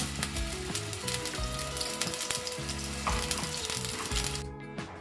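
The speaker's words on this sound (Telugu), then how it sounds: "ఈ పేస్ట్ దాంట్లో వేద్దామండి ఇప్పుడు ఆయిల్ అయితే హీట్ ఎక్కింది" A paste of garlic, cumin and onion sizzles and crackles loudly in hot oil for a tamarind fish curry, with steady frying and some stirring heard close up, no voices.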